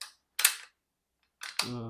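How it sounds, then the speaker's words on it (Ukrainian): Bolt of a Tikka T3x Varmint Stainless rifle being cycled, giving a few sharp metallic clicks and slides in quick succession, close and isolated, with a short resonant ring at the end. "перезаряджання, тобто досить таки плавний хід затвору"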